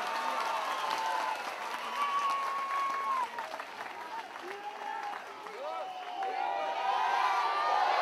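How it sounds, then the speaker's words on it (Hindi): A crowd at a gathering applauds loudly and steadily for about eight seconds, with cheering and raised voices mixed into the clapping. "इस्तकबाल कीजिए जोरदार तालियों से"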